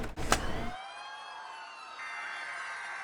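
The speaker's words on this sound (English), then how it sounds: "I think for that part they just found a bunch of siren sounds and put them in there" A brief burst of electronic noise gives way to sustained wailing siren tones that sweep and overlap, blended into music, with no voices.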